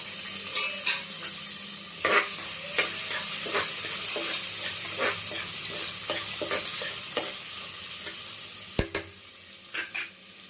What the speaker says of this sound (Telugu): ఆనియన్ కొంచెం ఫ్రై అయిన తర్వాత కొంచెం అంటే కొంచెం స్పూన్ అంతా జింజర్ గార్లిక్ పేస్ట్ ఇప్పుడు ఇవి వేసుకుంటున్నాము